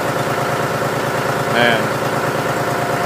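A John Deere 5103 diesel tractor idles after a cold start in freezing weather, a steady low rhythmic chug with a faint rising tone near the middle, while a voice briefly speaks over it.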